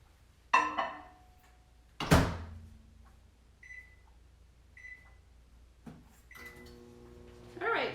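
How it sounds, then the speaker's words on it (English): A kitchen microwave oven door clunks open and shut, followed by a few short electronic beeps as it is set, then the hum of it starting to run, close and fairly quiet. "you're going to go ahead and pop this in your microwave"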